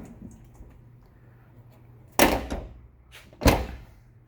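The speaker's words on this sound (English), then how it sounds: "this door never closed before, now it does." Two solid door thunks close by, the first followed by a brief rattle, the second heavier about a second later, over quiet background hum.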